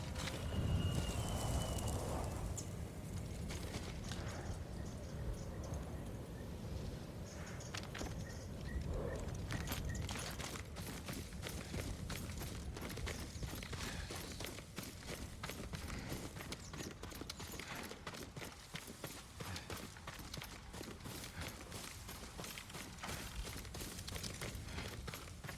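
Horse hooves clip-clop in a steady, rapid rhythm in the video game Ghost of Tsushima, a fairly faint galloping patter that continues alone over a low ambient rumble.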